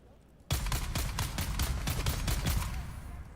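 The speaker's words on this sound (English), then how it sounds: "Oh god, they've got two guys with miniguns" Minigun fire in Dune erupts suddenly after a quiet moment, a loud, rapid stream of heavy shots pulsing steadily for several seconds at close range.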